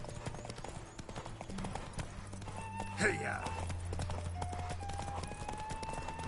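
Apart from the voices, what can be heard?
horse galloping, from The Witcher video game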